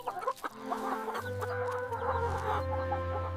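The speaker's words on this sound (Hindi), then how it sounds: "सब मुर्गियां यहाँ रहेंगी।" Hens cluck close by in a short series of soft, irregular calls layered over a low steady hum, with no talking.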